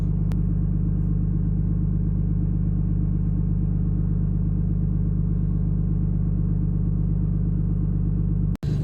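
Steady low rumble of a semi truck cab while driving, a constant loud engine drone with a brief dropout near the end and no talking.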